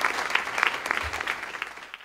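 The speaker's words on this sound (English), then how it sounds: "A round of applause for her." An audience at a Columbia Tonight episode applauds the executive producer with a lively burst of many clapping hands, close and full, tapering off toward the end.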